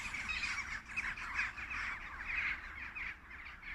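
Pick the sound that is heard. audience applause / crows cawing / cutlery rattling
crows cawing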